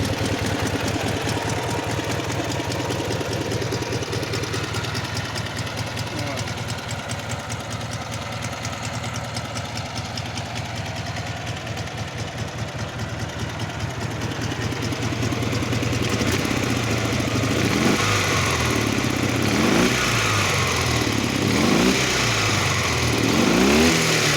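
A mini tractor engine, just started by hand crank without throttle, idles steadily and loudly with an even chugging rhythm, then roughens and rattles somewhat in the final stretch.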